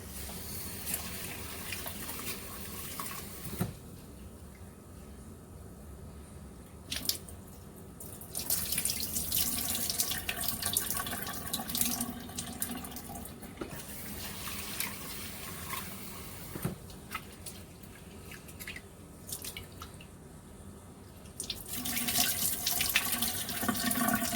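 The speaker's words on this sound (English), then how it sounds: "You can use a bowl and then put the rice here, and then we'll rinse the rice before" Tap water runs into a bowl while rice is rinsed, a soft rushing splash that swells and drops in several stretches, with quieter gaps and small clinks between.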